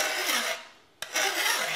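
A garden tool blade is sharpened at a 45-degree angle with two long one-directional rasping file strokes, close and fairly loud, separated by a short gap.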